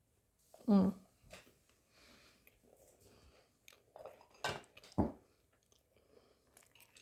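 Crunchy chewing of a biscuit close to the mouth, a few distinct bites and crunches spaced across several seconds with quiet pauses between.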